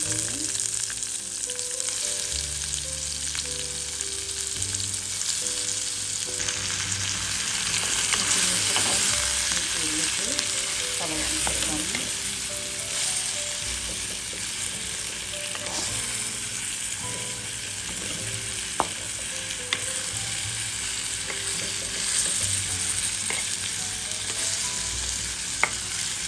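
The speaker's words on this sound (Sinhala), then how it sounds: "බටු ටික මේ විදිහට තෙලේ විනාඩි 3-4ක් තැම්බුණාට පස්සේ" Eggplant frying in hot olive oil for a village-style curry, a steady crackling sizzle that runs throughout with occasional spoon scrapes and clicks against the pot, no speech.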